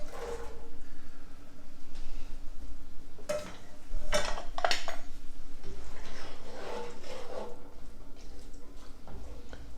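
Cooked beans poured from a pot into greens, with scattered clinks and clatters of the pot and utensils over a soft wet pouring and stirring background, no talk heard.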